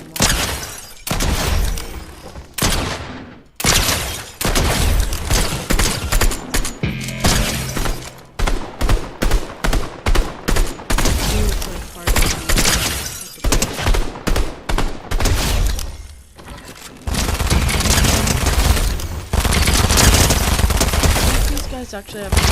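Fortnite assault rifle gunfire rattles loud and close in rapid bursts of sharp shots, broken by short pauses and mixed with cracking and shattering impacts, with a voice talking over the game sounds.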